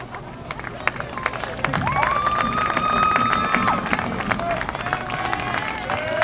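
Crowd at a high school lacrosse playoff game applauding an injured player, scattered clapping and cheering spread across the stands, with a commentator talking over it and a whistle sounding near the middle.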